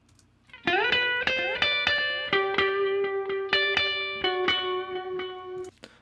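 An acoustic guitar plays a solo intro of plucked single notes, some ringing and sustained, with delay and reverb added. The notes are clear and close, with no talking.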